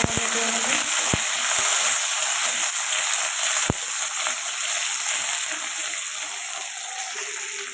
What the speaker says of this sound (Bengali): পেঁয়াজটা কিন্তু লাল লাল করে ভাজা করে নিতে হবে